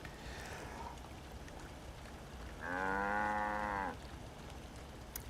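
A single loud, drawn-out cattle moo from a video game, about a second long, rising out of a quiet ambient background.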